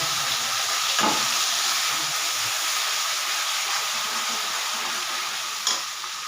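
Onion and garlic paste sizzles and hisses steadily in a hot pan over cumin seeds in a village Indian kitchen, a dense continuous frying noise with a couple of faint utensil knocks.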